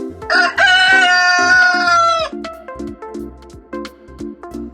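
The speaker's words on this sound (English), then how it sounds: "The sound of rooster." A rooster crows once, loud and close, with a long drawn-out harmonic call over a steady rhythmic backing beat that keeps pulsing after the crow ends.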